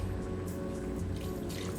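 Stock splashes and trickles into a Vitamix blender, a close liquid pouring and dripping sound with small splashes over a low background hum.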